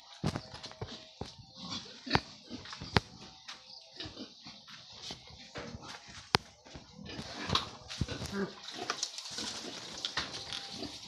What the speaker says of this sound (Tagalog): Ito, mga baboy din nila yan.